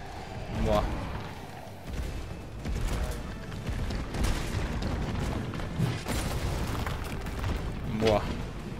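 Heavy gunfire and booming impacts in the Resident Evil 3 Remake video game, loud repeated shots and blasts over a rumbling background, with someone talking between them.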